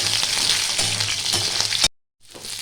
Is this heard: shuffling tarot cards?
no